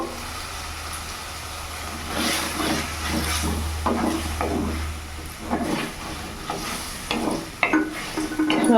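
Chili mushroom sauce with vinegar and soy sauce is stirred in a sizzling pan, a spoon scraping and clattering in irregular strokes over a steady frying hiss and a low background hum.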